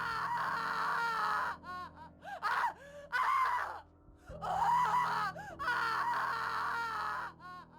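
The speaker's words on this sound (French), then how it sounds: "Elle hurle de douleur." A woman screams and wails in pain after a bucket of liquid is thrown in her face. The long, loud, anguished cries come close together with brief gasping breaks, and no one speaks over them.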